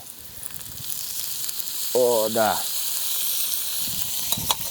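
Peppers and tomatoes for choban tava fry in a pan with a steady, hissing sizzle that runs throughout, close up, and a person briefly speaks over it partway through.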